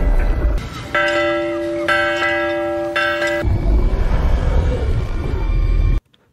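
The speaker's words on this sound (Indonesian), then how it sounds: "Melihat sebuah lonceng, Claire pun membunyikannya untuk memberi sinyal di seberang gunung" Loud church-like bell strikes ringing in three clear bursts over a constant rumbling background, like a train engine nearby.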